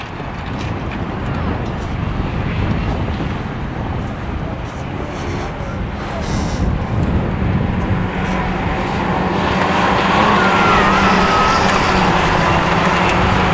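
Autograss race cars in a junior race at St Neots, engines roaring continuously at a distance with heavy wind buffeting, the drone swelling louder toward the end; a commentator talks over it.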